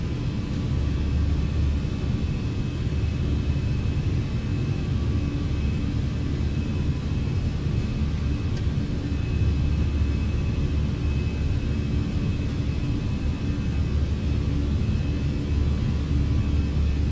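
Fenix A319 airliner engines at climb thrust in Microsoft Flight Simulator 2020, a steady broad roar with a low rumble that stays loud and even throughout, with no talk.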